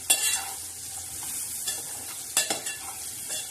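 Chilli powder and turmeric stirred in a hot tempering in a frying pan, a continuous sizzle broken by a few sharp scraping strokes of a spoon, up close.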